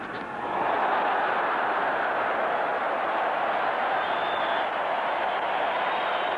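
A large Melbourne Cricket Ground crowd at a 1990 Australia v Pakistan one-day final gives a sustained, broad roar of jeers and noise, steady and loud from start to finish.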